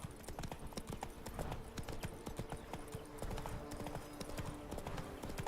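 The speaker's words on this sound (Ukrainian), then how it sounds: "Оце, то дикі коні." Hooves of wild horses in The Witcher 3 video game, a steady stream of clip-clopping footfalls at moderate volume, fairly close, with ambient game noise underneath.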